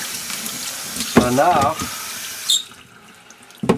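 Tap water runs into a sink while rusty metal-detecting artifacts are washed, a steady splashing rush that surges and then cuts off, with someone talking briefly over it.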